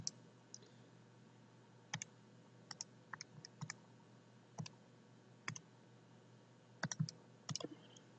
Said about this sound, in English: type it into the calculator